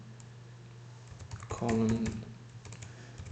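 Keys clatter on a computer keyboard as a name is typed: a short burst of clicks amid quiet room tone, with a brief spoken word nearby.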